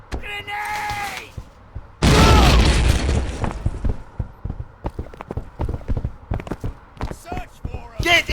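A grenade blast in the video game Terror Strike: a loud, sudden burst about two seconds in that rolls on for over a second, with voices, footsteps and scattered clatter before and after.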